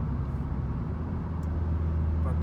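A Mercedes-AMG C63S cruises along a road on a road trip, its engine a steady low drone under tire and wind noise heard from inside the car.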